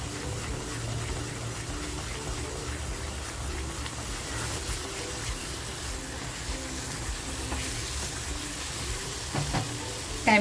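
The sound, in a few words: rawas fish masala frying in a pan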